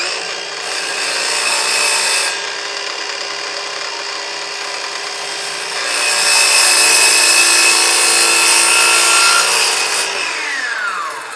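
A Ryobi One P508 circular saw cuts through wood, a loud, sustained high-pitched whine and rasp that holds for several seconds, surges louder midway, then tapers as the cut finishes, with no talking.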